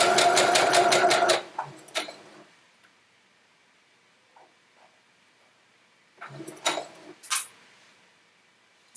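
A sewing machine stitches quilt fabric in a loud, rapid burst at the start, then stops. Near the end come brief mechanical clicks and thumps, with quiet between them.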